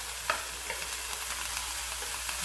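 Drained tuna stirred into a pan of browned onions and cooked peas, soft sizzling with light scraping and stirring taps, quiet and close, no voices.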